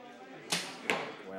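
Two sharp arrow strikes from young archers training at an outdoor range, about 0.4 seconds apart, each a crisp broadband thwack over a steady background of low murmur and ambient noise.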